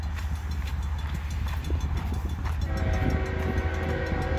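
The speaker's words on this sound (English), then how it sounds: "We got a train coming." An Iowa Interstate freight train led by locomotive IAIS 516 rumbles steadily nearby in Peoria, Illinois, its low rolling noise joined partway through by a sustained tonal horn-like whine.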